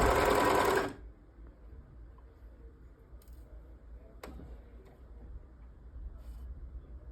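A sewing machine stitching pleated, gaufré fabric runs in a loud, fast whirring burst for about a second, then stops, leaving quiet room tone with a few faint clicks.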